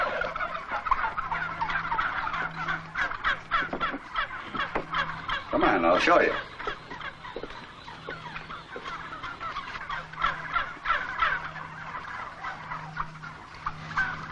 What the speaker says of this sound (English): The turkeys in this run are 5 months old.